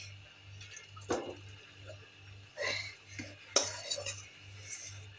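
A spoon stirs chicken curry in a pot after the gas is turned off, giving a few brief metallic scrapes and clinks with wet stirring sounds over a faint steady hum.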